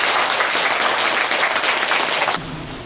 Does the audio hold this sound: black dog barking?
no